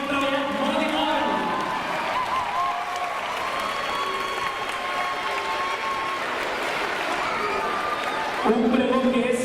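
Applause and crowd noise at a Marist school's Montserrat festival opening proclamation, for the fourth-year secondary students, a steady dense wash of clapping and voices lasting throughout, swelling louder near the end.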